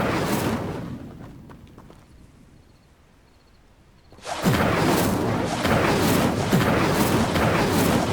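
A fire spell cast in Hogwarts Legacy during a spider fight: after a quieter lull, a sudden whooshing burst of flame surges up and roars on loudly, with crackling, booming texture.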